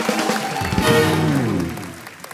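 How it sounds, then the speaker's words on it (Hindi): Studio audience applause on The Kapil Sharma Show, a dense, loud wash of clapping that swells and then fades out over about two seconds. "जोरदार तालियां"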